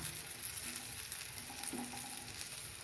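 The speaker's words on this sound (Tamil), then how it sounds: "ஒரு அஞ்சு நிமிஷம் அப்படியே ஃப்ரை ஆகட்டும்" Spiced brinjal pieces shallow frying in a pan over low heat give a steady, close hiss of sizzling oil with faint occasional stirring, and no voices.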